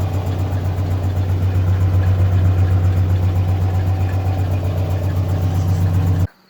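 A Toyota AE86 with a KA24 engine idles close by at 1,000 rpm with a low, uneven rumble and a slight ticking irregularity from an exhaust leak, running steadily before cutting off abruptly near the end.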